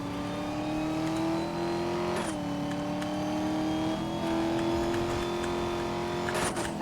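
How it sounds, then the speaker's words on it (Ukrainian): A tuned Mercedes-Benz SL 65 AMG in Need for Speed: Most Wanted (2012) drives at speed, its engine tone rising steadily then dropping at gear shifts, with a continuous close-up roar. "Я підналаштував свою тачку, тепер вона ще швидше їде."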